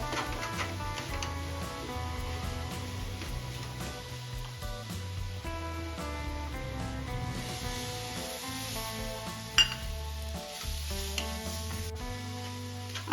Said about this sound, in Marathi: आता आपलं बेसन आणि रवा छान भाजलेला आहे